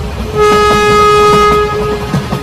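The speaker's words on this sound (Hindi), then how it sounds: "तभी थोड़ी देर में इन लोगों की ट्रेन अगले स्टेशन पे आ जाती है।" Cartoon train pulling into the next station, a loud steady horn-like tone sounding for over a second above rumbling, rhythmic rail clatter.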